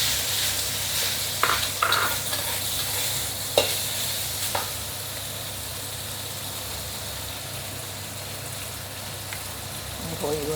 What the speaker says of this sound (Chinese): 放那个蒜米 这个肉去炒一下